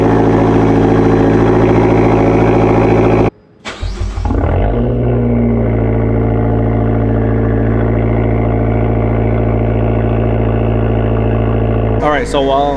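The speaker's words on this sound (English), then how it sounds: "let's do a cold start" Fiat Abarth car engine on a cold start: a loud running drone cuts out, the starter cranks briefly, then the engine catches and settles into a steady, close idle.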